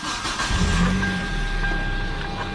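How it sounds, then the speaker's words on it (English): A 2007 Hyundai Tiburon with a manual gearbox and 158,000 miles cranks briefly and catches, its engine rising to a loud, steady idle that runs close by without any talk over it. "let's push the clutch in because it's a stick. We'll start this vehicle up."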